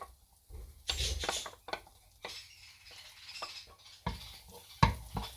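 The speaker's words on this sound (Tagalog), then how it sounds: "Chopped garlic, yeah? Saute it until it's light brown" Chopped garlic sautéing in a pan, with soft stirring and scraping scattered through a quiet kitchen and a few sharper clinks of utensil against the pan.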